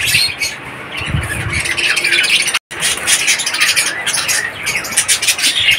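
Mixed budgies, cockatiels, conures and lovebirds in an open aviary breeding setup chirp and squawk continuously, a dense, busy chorus of close and overlapping calls with a brief break midway.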